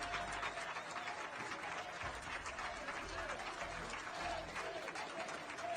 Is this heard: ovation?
yes